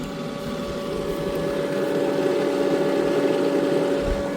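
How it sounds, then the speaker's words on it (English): An Intex SX3000 sand filter pool pump runs outdoors with a steady, loud motor hum and a rushing whir that holds constant throughout, with no talking. "Let's go out and see how the pump is doing."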